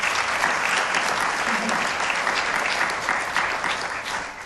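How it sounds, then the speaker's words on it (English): A school board meeting audience gives a round of applause, dense and close clapping that stays loud and even for a few seconds before easing off slightly at the end. "let's give her a round of applause"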